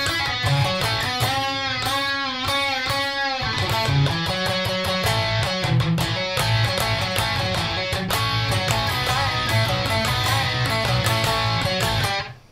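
Electric guitar tears through a solo at full speed, a loud, dense stream of fast picked notes and bends over a steady backing, close and continuous until a sudden cutoff.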